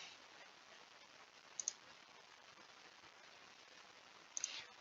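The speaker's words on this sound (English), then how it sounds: "Click on save." Two quick, faint pairs of computer mouse clicks, spaced a few seconds apart, as a form is saved in asset accounting software, over a steady quiet hiss.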